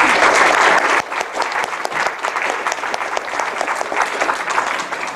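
Audience at an academic talk applauds to welcome the speakers, sustained dense clapping throughout, strongest at the start and settling into a steady, even patter.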